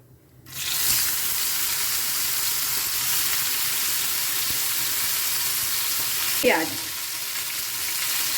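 Ivy gourd and nigella seeds hit hot mustard oil and burst into a loud, continuous sizzle that holds steady, with a brief clatter of the pan near the end and no speech.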